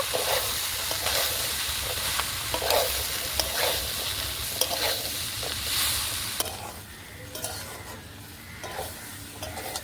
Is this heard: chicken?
yes